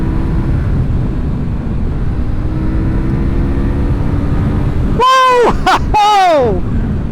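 A CFMOTO 450NK motorcycle's exhaust note over steady wind and riding noise, then two sharp loud revs climbing high in pitch near the end, close to the microphone.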